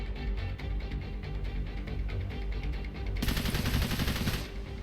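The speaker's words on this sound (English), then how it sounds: "Obviously they hear the gunfire." Gunfire in the video game Cepheus Protocol, a rapid string of shots that grows into a louder, denser automatic burst in the second half, with no talking.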